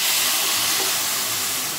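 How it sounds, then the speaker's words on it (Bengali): Water poured into a hot pan of spiced vegetable dalia khichdi sends up a loud, steady hiss of steam and sizzle that fills the whole moment without a break. "জল দিয়ে দেব।"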